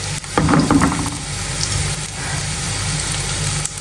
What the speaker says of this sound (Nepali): दालमा हरेक कुरामा म चाहिँ गार्लिक अगाडि यसरी भुट्छु